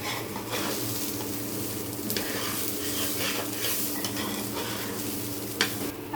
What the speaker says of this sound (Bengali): চুলার আঁচটা একদম লোতে রেখে আস্তে আস্তে ধৈর্য সহকারে সুন্দর করে চালটা ভেজে নিতে হবে